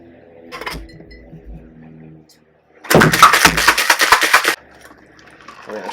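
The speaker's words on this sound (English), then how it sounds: "Put some ice in our glass." Ice cubes tumble into a glass while making a drink with a Mockly Eye Opener non-alcoholic mocktail, a loud burst of clinking and rattling that lasts over a second, preceded by quieter handling noises.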